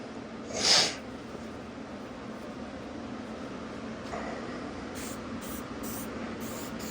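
A short hiss of dye sprayed from an aerosol can onto a weld repair on the bail of a CAT 627 scraper, one burst near the start, followed by steady low background noise and faint later hisses.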